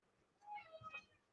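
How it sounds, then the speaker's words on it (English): A pet cat gives a single short meow, quiet and close, heard alone against a faint background. "my cat really meows a lot."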